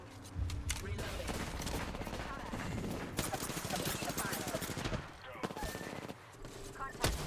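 Dense, rapid gunfire in a video game, with near bursts of automatic shots crackling almost continuously and a brief lull before resuming, under a quiet voice.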